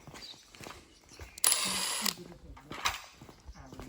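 A wrench ratchets on a bolt on planting equipment outdoors, giving short, close bursts of clicking with a louder metallic stretch in the middle and faint background voices.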